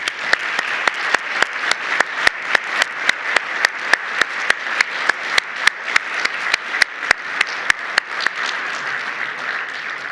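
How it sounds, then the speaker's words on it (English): Steady applause from an audience at a university storytelling event honoring student speakers, with one nearby clapper's sharp, evenly spaced claps standing out over the crowd's continuous wash. "So let's all give a round of applause for these brave students who are offering their stories tonight."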